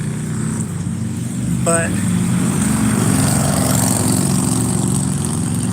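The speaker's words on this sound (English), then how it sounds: "Loud ass motorcycles." Loud motorcycle engines rumble past close by in a steady, sustained roar, with a person talking over the noise.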